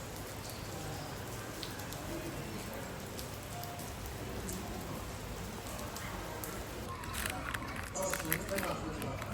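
Rain falls steadily outdoors in China, a dense even hiss of drops on surfaces that thickens toward the end, with faint activity in the background.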